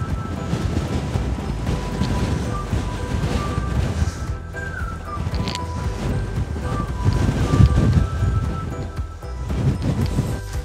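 Strong gusts buffet the microphone on open moorland, a continuous low roar that swells and eases without letup, with no voices heard.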